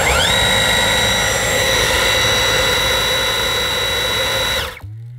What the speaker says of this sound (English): Here is my standard V11 fitted with the anti-tangle screw head.